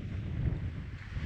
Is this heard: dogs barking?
no